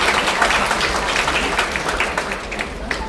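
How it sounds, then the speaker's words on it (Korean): An audience at a memoir book launch in the National Assembly Museum applauds an introduced guest, a continuous roomful of clapping at even, loud volume. "여러분 큰 박수 부탁드리겠습니다."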